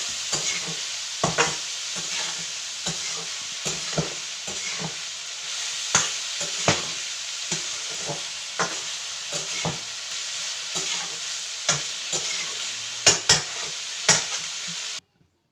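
Soybean curry with turmeric and salt stirred in a frying pan, a steady sizzle under repeated sharp scrapes and taps of the spoon against the pan at an irregular rhythm.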